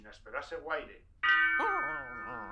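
A bell rings out the New Year chimes, starting with a bright, sustained metallic strike and then a second ringing tone that lingers. Excited voices are heard just before it.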